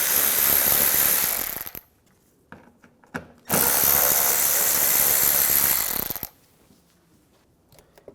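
Ratchet with an 8mm socket backing bolts out of a 2009-2013 BMW 328i xDrive during washer reservoir work, heard as two loud, dense bursts of rapid clicking, each lasting a couple of seconds, separated by quiet with faint handling noises.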